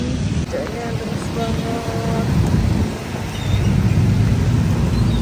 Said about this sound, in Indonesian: Hujan-hujan. Hujannya deras